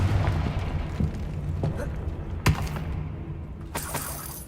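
Confringo blasting spell from Hogwarts Legacy, heard as a loud sharp burst midway through a dense, rumbling game soundscape, with a second crackling blast near the end.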